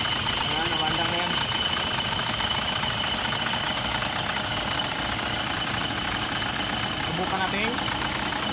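An Isuzu 4JA1 diesel engine running steadily after a cylinder head replacement, a continuous close idle with a knocking rumble throughout.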